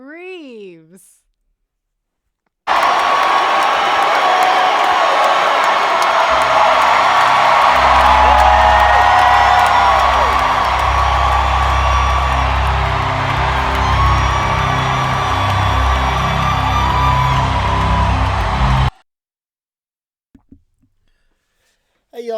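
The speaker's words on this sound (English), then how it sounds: "Hope you thought that applause was funnier than the old Minions." Large audience cheering, whooping and applauding to welcome a speaker on stage, a dense sustained roar lasting about sixteen seconds with yells on top, then cutting off into quiet.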